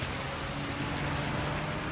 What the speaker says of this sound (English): take a look at the rain right here. It started to get really heavy